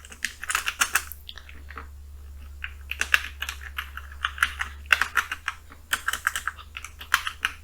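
Keys clatter on a computer keyboard in uneven bursts of typing with short pauses, close and fairly quiet, with a low steady hum underneath.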